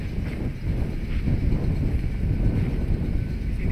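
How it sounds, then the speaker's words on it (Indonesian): Strong wind buffets the microphone at an outdoor archery range, a steady low rumbling roar with gusty fluctuations throughout and no talking. "Di sini angin cukup kencang"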